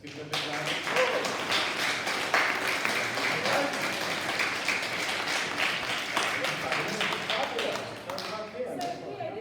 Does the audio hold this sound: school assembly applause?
yes